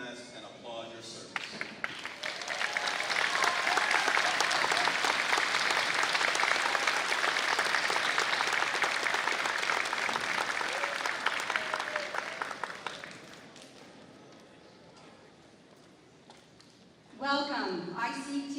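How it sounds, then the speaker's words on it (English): Sustained crowd applause at a 2019 commencement ceremony in Chamblee honoring military personnel, loud and steady for about twelve seconds before fading out, with a voice speaking briefly at the start and again at the end. "please stand so we can recognize and applaud your service"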